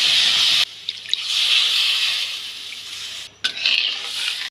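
Water is poured into a pan of roasted semolina, a loud close gushing stream that breaks off briefly, resumes, cuts again and starts once more, with no talk.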